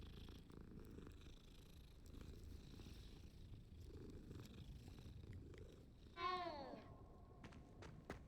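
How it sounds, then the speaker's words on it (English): A cat in the game Hogwarts Legacy purrs in a soft, continuous low rumble, with a brief meow-like chirp near the end over faint ambient game sound. "Look, a cat. Hello. Hello, little kitty."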